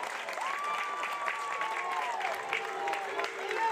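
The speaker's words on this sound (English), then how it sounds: "That is them chanting for Boone." Softball crowd in a college stadium at Oklahoma versus UCF, chanting for batter Riley Boone after her single, a sustained, steady roar of many voices with a long rising-and-falling vocal line riding on top throughout.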